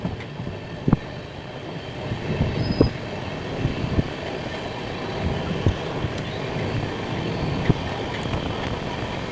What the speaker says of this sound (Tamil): எனக்கு ரொம்பவே பிடிக்கும் ட்ரெயின் ஜேர்னி